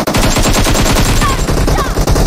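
Rapid, loud automatic gunfire in the PUBG Mobile video game keeps up a dense, continuous rattle of shots for a couple of seconds, close and dominant.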